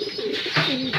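Racing pigeons coo up close at their loft after a 153 km race, two or three soft rolling coos in quick succession over a faint background hiss.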